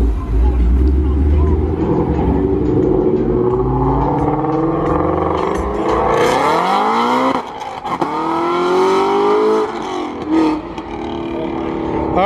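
Two GT350 cars accelerate hard away from a car show; loud engine roar climbs steeply in pitch through the revs, with a brief lift-off and another surge, while people talk and cheer nearby.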